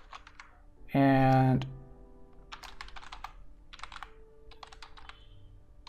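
Typing on a computer keyboard, heard as quick close bursts of light key clicks in short runs, after a brief loud tonal beep, with someone speaking briefly.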